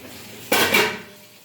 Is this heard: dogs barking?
no